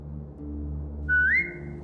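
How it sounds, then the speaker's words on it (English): A short rising whistle to a dog in The Walking Dead video game, a single clean tone of under half a second over a steady low hum of game ambience. "Now whistle and tell her to lie down."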